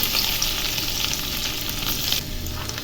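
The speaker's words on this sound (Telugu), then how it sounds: "ఎండుమిర్చికి ఆయిల్ వేసుకున్నాను ఇందులో మినపప్పు మినపప్పు ఇలా బ్రౌన్ కలర్లోకి వచ్చాక" Urad dal and dried red chillies fry in hot oil with a steady, close, bright sizzle that holds evenly throughout, with faint stirring, and no talk.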